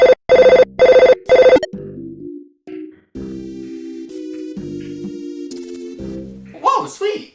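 A telephone rings in the SNES-style video game Earthbound: four quick bright electronic rings in a row, followed by chiptune game music and blips.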